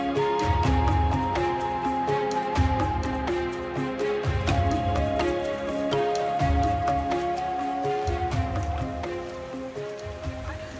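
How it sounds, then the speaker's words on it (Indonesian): Steady light rain patters on a surface at a traditional village in Flores, Indonesia, with soft drips and a faint tonal hum underneath, continuous and close, with no voices. "Rintik hujan menyambut kedatangan kami."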